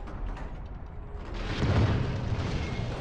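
A shot slams into a tank in the Heroes & Generals video game, setting off a deep, rumbling explosion that swells at mid-clip and then lingers as a heavy low roar over continuous battle noise.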